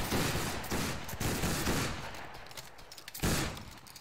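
Musket volleys in the video game Battle Grounds III, a rolling line-battle fusillade of overlapping shots, heavy at first, thinning, then one more sharp volley near the end.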